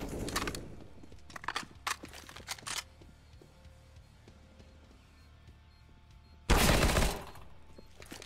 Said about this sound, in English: Wasn't that a headshot with an AK?